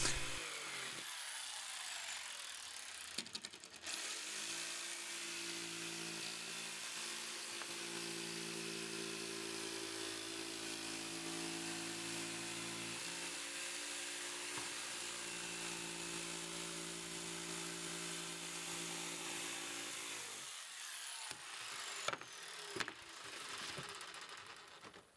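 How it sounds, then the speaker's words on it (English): An outdoor jigsaw rough-cuts MDF in a steady buzzing run of about seventeen seconds, the motor tone shifting partway through. Brief handling noises come before and after, with no voices. "Using my jigsaw, I rough cut some MDF for my letters."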